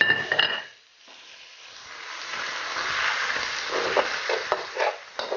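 Beaten eggs hit a pan of carrots for chicken fried rice, starting with a short clatter and then a moderate, continuous sizzle and hiss as they cook, with occasional scraping.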